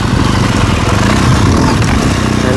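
A BMW R 1200 GS Adventure motorcycle rides slowly over rocky terrain, its engine a steady close rumble with scraping and clattering from stones under the tires.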